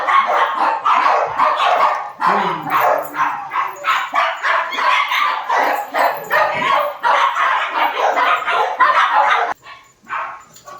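Repeated dog barks and yips in quick bursts, loud and close, with brief whimpers between them and a voice now and then, on a roadside stop where a dog is being offered for free.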